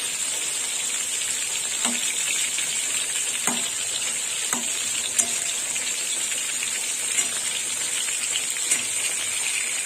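Pointed gourd (potol) slices fry in a pan with a steady, close sizzle throughout, broken by a few soft clicks of a spatula turning the pieces.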